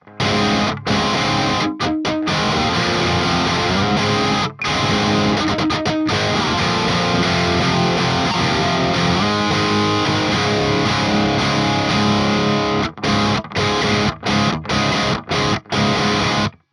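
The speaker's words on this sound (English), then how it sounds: "I'm going to play on a relatively high gain tone" Heavily distorted electric guitar with Railhammer Hyper Vintage pickups on a high-gain tone: chugs and chords fill the space, loud and continuous, with a few brief muted gaps between phrases.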